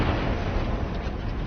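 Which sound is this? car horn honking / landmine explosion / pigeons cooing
landmine explosion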